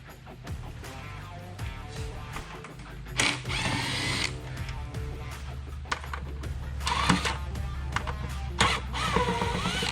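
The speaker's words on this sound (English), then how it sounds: "We're going to go ahead and take these screws out all the way around it" Screws are worked out around a Morimoto headlight housing from a 2020-2022 Ford F250/F350, with a power driver whirring in a few short bursts among clicks and small plastic handling noises, close and fairly quiet.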